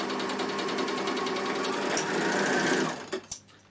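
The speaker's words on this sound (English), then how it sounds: "put your stitch length on 4, which is the longest stitch length here, and sew with 4-thread overlocking." A Bernina L450 overlocker runs a 4-thread overlock stitch with a fast, steady mechanical whirr, close and loud, then slows and stops with a few clicks near the end.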